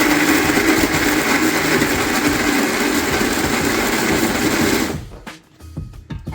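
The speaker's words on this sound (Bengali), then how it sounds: "এবার আমি এটা মিক্সারে বেটে নেব।" Electric mixer grinder whirring steadily as it grinds spices with garam masala for chicken kebab, a loud continuous buzzing drone for about five seconds, then cutting off, followed by a few clicks and clatters of the jar.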